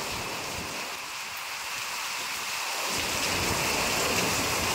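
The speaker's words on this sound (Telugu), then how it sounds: "వర్షం అయితే బాగా పడుతుందండి." Heavy rain pours steadily during a storm in Chintalapudi, a dense broadband hiss with low thunder rumbling beneath it for the first few seconds, continuous and close with no voices.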